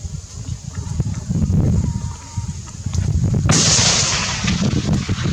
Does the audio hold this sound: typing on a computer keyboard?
no